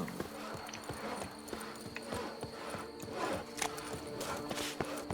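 Hooves of a horse clip-clop at a steady walking rhythm in The Witcher video game, a run of close, clear hoof strikes over faint background ambience.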